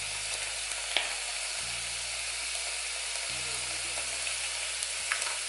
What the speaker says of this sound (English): Let them sweat some of that flavor out and get translucent